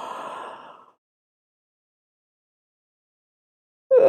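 A single person yawns, a soft breathy exhale that trails off, followed by silence and an abrupt voiced sound at the very end.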